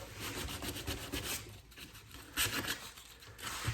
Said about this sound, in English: we're literally just scuffing it up, taking the edges off